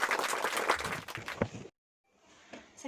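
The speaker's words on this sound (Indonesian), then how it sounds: "Beri tepuk tangan terlebih dahulu" A class of schoolchildren claps together in a burst of applause that stops abruptly, followed by a brief silence and then faint room noise.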